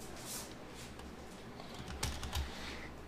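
Computer keyboard keys are tapped in quick, irregular clicks with a couple of sharper, louder strikes, faint and close during a PC game of Tekken 7.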